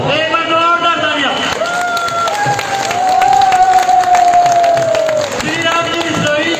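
Applause and crowd noise at an outdoor village political rally, a steady wash of clapping and cheering over amplified music that carries a sustained melodic line, loud and continuous throughout.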